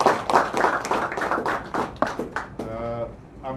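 A burst of hand clapping from a group, steady and close, with voices mixed in and a bit of speech toward the end.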